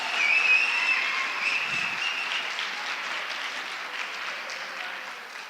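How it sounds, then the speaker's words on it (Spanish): Faint, steady applause from a conference audience at the OGMIOS 2019 event, a soft even hiss of many hands clapping at a distance that slowly tapers off. "Gracias por el aplauso"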